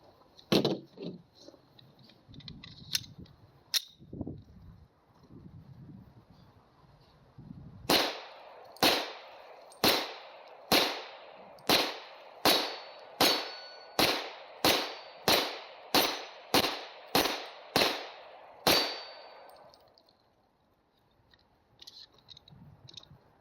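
A Taurus TH40 pistol fires a rapid string of about fourteen sharp, loud shots at a man-sized target, each crack trailing a brief echo, preceded by quieter handling and shuffling sounds and followed by a lull.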